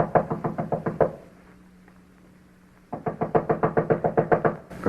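Knocking on a locked, barred door in an old radio drama: two bursts of rapid, loud, close knocks, about seven blows each, separated by a couple of seconds of quiet room tone with a low hum.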